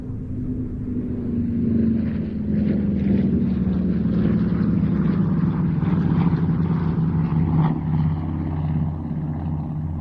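Curtiss propeller aircraft flying at Duxford drone steadily overhead, a loud, continuous engine roar with a slowly sliding pitch as they pass, heard without any talk.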